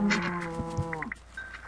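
A blocky Minecraft cow lets out a low, drawn-out in-game moo, clear and close, followed by a few softer game sounds as it fades.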